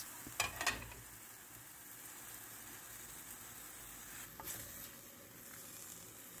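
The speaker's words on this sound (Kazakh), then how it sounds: "Ары қарай тауық етін қосып қуырамыз." Chicken sizzles and fries in a pan, a soft steady crackle with a couple of brief stirring scrapes near the start and again midway, fairly quiet and close.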